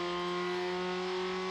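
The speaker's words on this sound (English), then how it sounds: "Revving and racing right to the limit." SsangYong ute race engines rev hard on the track at Manfeild, a steady droning engine note, faint and distant, with no voices.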